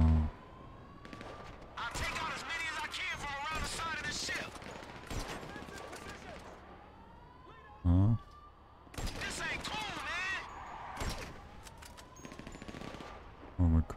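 Gunfire in the video game Grand Theft Auto V, rapid sustained shooting with sharp bangs and a siren-like wail in the background, while a player talks over it.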